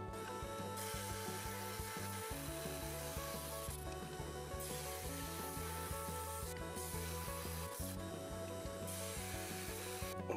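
A jade saw cuts through Malawi and Brazilian agate stones, giving a loud, continuous grinding, rasping drone with a steady low motor hum and no speech throughout.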